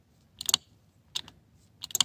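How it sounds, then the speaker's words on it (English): A relay on the ignition of a Vermeer BC1000X brush chipper clicks in three quick bursts of sharp, close ticks, separated by near-silent pauses. "See there, you can hear the relay clicking."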